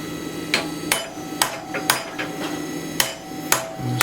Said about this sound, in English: Just ordinary chisel.